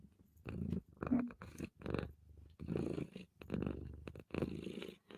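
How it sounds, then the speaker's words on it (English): A cat purrs close by in a rhythmic rumble, each breath-driven burst rising and pausing in a steady pattern. "A little purring for everybody"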